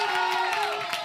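A studio audience on a TV programme briefly cheers and claps to welcome an actor and singer. The crowd noise is short and mid-level, blended with bright musical tones.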